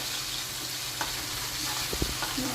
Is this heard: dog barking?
no